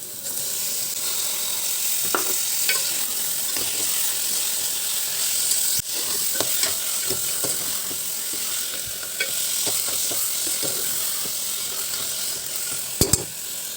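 Tomatoes with salt are stirred into sautéed onions in a frying pan, giving a steady close sizzle broken by scattered spatula scrapes and a sharp clatter near the end.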